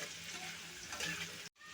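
Stem potatoes being stirred into a fried paste in a pan, a soft continuous sizzle with scraping stirs, faint and close, cutting out abruptly near the end.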